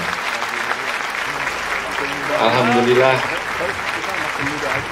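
An audience applauds at a Betawi hajatan celebration, the clapping swelling to a peak midway and then thinning, heard beneath a speaker's amplified voice.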